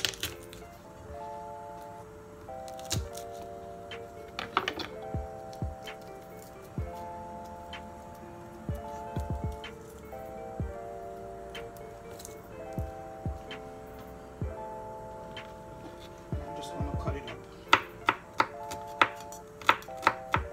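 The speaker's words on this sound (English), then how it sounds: "I'm gonna crush my garlic here" Garlic is crushed and chopped for honey bar-b fried pig tails, with scattered knife taps and crunches on a board, louder toward the end, over a quiet background tune.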